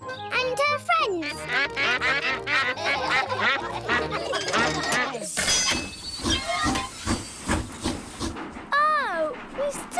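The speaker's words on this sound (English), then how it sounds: "It's Mrs. Duck and her friends" Ducks quack in a lively chorus over music in a children's cartoon, followed by a hissing, chugging stretch and another squeal.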